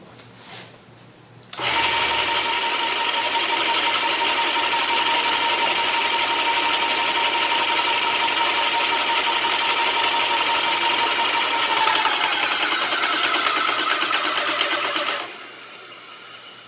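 An airless paint sprayer that has lost pressure starts up with a sudden steady mechanical buzz and motor whine that runs loudly and evenly for about thirteen seconds, then cuts back to a quieter hum.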